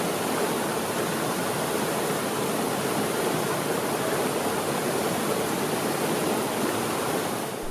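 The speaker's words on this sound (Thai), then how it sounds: "น้ำตกป่าละอู พวยพุ่งไหลร่วง กระแทกโขดหินกึกก้องกลางป่าดงดิบ" Pala-U waterfall pours onto rocks in a jungle forest in Kaeng Krachan National Park, a loud, steady, broadband roar of rushing water that holds constant throughout.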